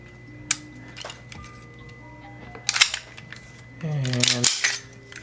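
Slide coming off a Tokyo Marui Hi-Capa airsoft pistol: a few sharp, close metallic clicks and snaps, then a louder scraping, sliding rasp near the end, in a quiet room.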